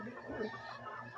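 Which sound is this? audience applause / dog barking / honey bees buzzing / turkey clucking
turkey clucking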